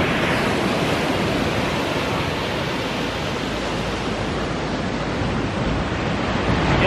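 Ocean waves wash onto a beach in a loud, continuous roar of surf, with wind-like rushing noise throughout and no speech.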